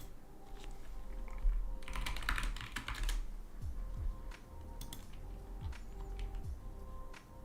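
Computer keyboard typing during a live futures trading stream, with a dense burst of clustered keystrokes in the middle and scattered clicks around it, close and moderately loud over a steady low background hum.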